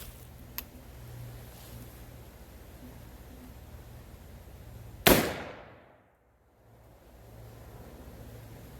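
A 12 gauge double barrel black powder shotgun loaded with 40 grains of FFG powder and a round ball fires once at 15 yards, a single sharp loud boom that rolls off quickly after faint outdoor hiss.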